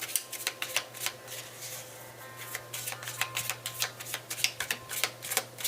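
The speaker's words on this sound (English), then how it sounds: "Three shuffles." Tarot cards shuffled by hand in a quick run of crisp riffling bursts, sharp rapid taps repeating steadily at close range in a quiet room with a faint low hum.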